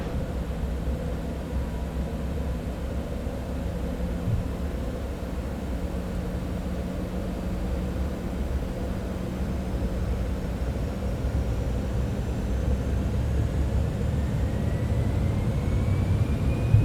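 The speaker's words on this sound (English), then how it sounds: "And we have plenty of runway, so let's do a rolling takeoff" Cessna Citation X jet in Microsoft Flight Simulator 2024 spooling up for a rolling takeoff, a steady broadband jet roar and hum with faint rising whines, holding level without talk.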